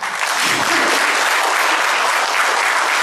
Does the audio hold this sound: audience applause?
yes